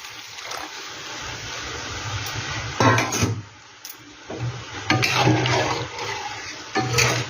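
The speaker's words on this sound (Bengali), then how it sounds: "এখানে এবার আমি জলটা দিয়ে দিই" Water poured into a cooking pot for a thin hilsa fish curry, a loud, close, continuous rushing splash that swells and dips in several surges over about seven seconds.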